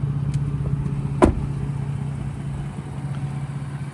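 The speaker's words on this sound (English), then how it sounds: "That Borla exhaust sounds really, really nice." A 2018 Ford F-150 Raptor fitted with a Borla exhaust idles with a low, even rumble, one brief sharp click near the start, no talking.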